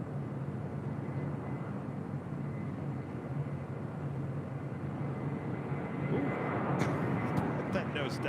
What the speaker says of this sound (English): Next arrival on the north side is United Airlines flight 2166 coming up from SFO at 737-900 ER